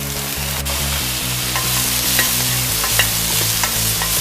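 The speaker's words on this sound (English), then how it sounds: "Then add in the Luffa Gourd and stir fry it for about a minute" Luffa gourd and minced pork stir-frying in a wok, a loud, steady sizzle with a few light spatula taps and scrapes over a constant low kitchen hum.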